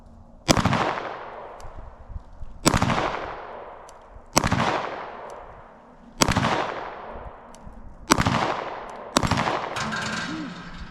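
Five or six loud, sharp gunshots from a Shadow Systems MR920 Elite 9mm pistol, fired one at a time with pauses of about two seconds, each shot ringing out and decaying before the next.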